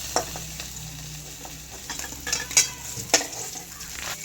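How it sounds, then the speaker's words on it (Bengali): Fish pieces fry in hot oil in a pan while being stirred, making a constant sizzle broken by sharp spatula clinks and scrapes against the metal. "এভাবে সব ভেজে নেবো।"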